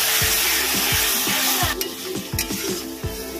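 Chilli powder and turmeric being stirred and fried in a pan for Bengali chital fish muitha, a steady sizzle with repeated scraping strokes of a spatula against the pan, close and loud, no talking.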